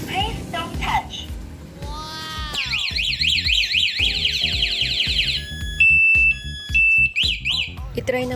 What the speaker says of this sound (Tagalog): itry naman natin sa malayuan kung gagana yung alarm